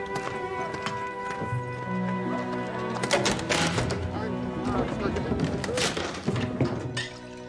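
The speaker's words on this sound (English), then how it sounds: "Get that horse off first." A horse's hooves clop and thud on a hard surface amid rustling and background music in a period drama scene, with voices talking over the hoofbeats.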